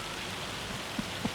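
Hail pelting down in the farming game Farming Simulator 25, a steady soft hiss of many small impacts with a couple of slightly louder thuds near the end, fairly quiet and with no voices.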